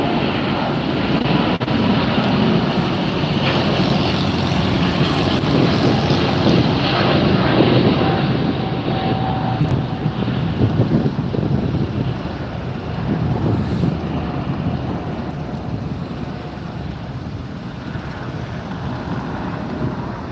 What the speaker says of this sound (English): There goes the Eva Air.